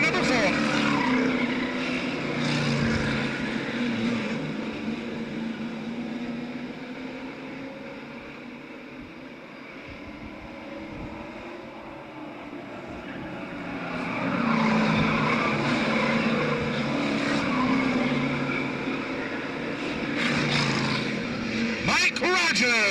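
Stock race cars, among them a Chevrolet Monte Carlo, roaring down the backstretch of an oval track, a sustained engine drone that dips and then swells again as the cars pass, under a public-address commentator.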